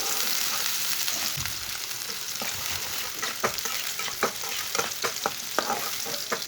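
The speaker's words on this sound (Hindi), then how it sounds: "प्याज को हल्का सा ब्राउन कर लेंगे।" Finely chopped onion fries in oil in a pan for Punjabi-style noodles, giving a continuous close sizzle broken by intermittent scraping stirs, with no talking.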